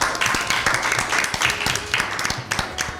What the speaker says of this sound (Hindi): आपके लिए भरपूर तालियां